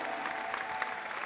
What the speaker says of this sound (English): Let's clap for these women and ladies.